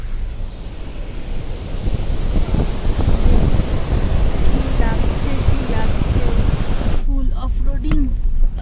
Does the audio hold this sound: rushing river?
yes